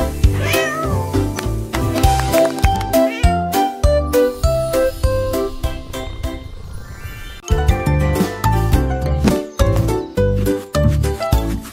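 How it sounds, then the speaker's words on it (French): A cat meows loudly and repeatedly over bright, jingly music, the calls rising and falling in a playful melodic pattern. "Miaula fort le grand félin"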